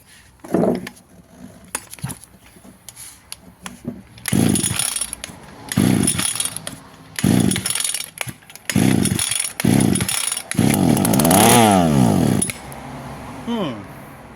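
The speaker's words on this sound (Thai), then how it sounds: "มา เรามาฟังเสียงแรกของเจ้า G3K กัน ว่ามันจะเป็นอย่างไร" A Komatsu Zenoah G3K two-stroke engine is pulled over several times, firing in short bursts before catching and running with revving, loud and close, with brief speech between pulls.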